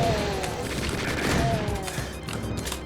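Chaingunner enemies in Doom II open fire in a dense, continuous burst of rapid gunfire that fills the whole moment, with booming impacts mixed in and no talk over it.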